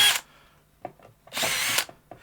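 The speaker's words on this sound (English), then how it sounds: "don't use a drill to take stuff off a guitar unless you're super overconfident like I am" Bursts of a power drill whirring while removing parts from a guitar, two short high-pitched spins separated by faint clicks and handling noise, close by.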